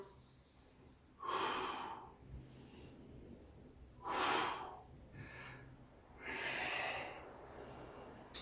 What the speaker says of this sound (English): Big deep breaths as we go through.